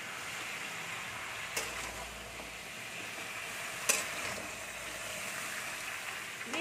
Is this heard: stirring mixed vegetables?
yes